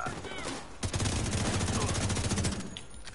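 Rapid gunfire from the Destiny 2 game rattles on in steady bursts across most of the stretch, dense and loud, with a voice talking over it.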